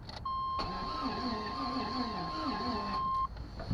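A Chevrolet Suburban's starter cranks the engine steadily for about three seconds without it catching, with a rhythmic churning under a steady electronic tone, then cuts off abruptly; fairly quiet and close.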